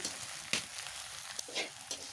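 Taro leaves (kochu shak) fry in a pan with a soft, steady hiss and a few brief crackling bursts, faint and close with no voices.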